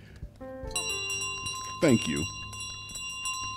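A bell in Untitled Goose Game rings with a bright, sustained metallic tone that lingers over several seconds while a person talks over it.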